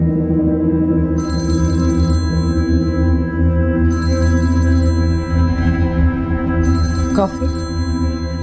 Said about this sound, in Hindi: इसका फोन बज रहा है काफी देर से, उठा नहीं रही।